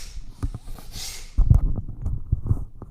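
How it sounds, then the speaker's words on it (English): Rapid, forceful Bhastrika yoga breaths pumped in and out through the nose, a quick rhythmic huffing that grows stronger and steadier in the second half. "Bhastrika's forceful inhales and exhales in and out of the nose"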